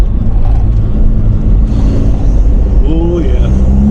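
A vehicle with a PD150 torque upgrade accelerates hard in third gear with wheelspin: a loud, close, continuous engine roar with rising pitch, and a voice talking over it.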